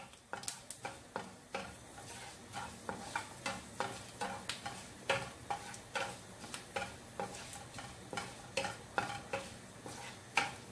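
Food is sautéed in a pan for tomato rice, with a soft background sizzle broken by regular clicking scrapes and taps of a spoon stirring against the pan throughout.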